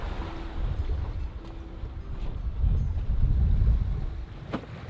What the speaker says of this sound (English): So that wind's very variable, hey?